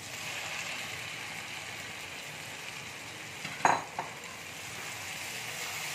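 Potatoes tipped into a pan of fried spice paste, a low steady sizzle with a brief clatter and stir near the middle, fairly quiet overall.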